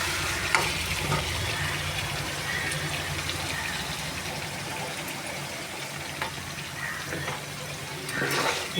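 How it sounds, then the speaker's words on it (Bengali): Hot water poured slowly into a pan of chicken curry as it cooks, a steady hissing wash of liquid and bubbling with faint clatter, fairly close and without talk. "এবার এটা আমি একটু গরম জল করে রেখেছি, দিয়ে দেবো।"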